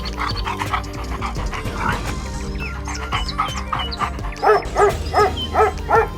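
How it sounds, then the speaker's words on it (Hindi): A dog sniffs and tracks a scent outdoors, close, with quick panting sniffs and short yips building into a rhythmic run of barks near the end, while chickens cluck in the background. "मंत्री ने एक कुत्ते को बक्से से कोई चीज सूंघाई और उसके बाद कुत्ता आगे"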